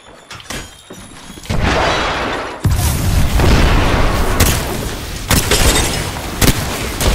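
Heavy booming blasts and bursts of gunfire from an Apex Legends firefight, loud and dense, with repeated impacts rolling one after another and a large blast a little over two seconds in.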